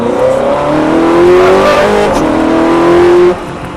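Ferrari F430 accelerating hard around the Ledenon circuit, engine note climbing steadily through a gear, loud and close, then dropping off sharply near the end; no talk.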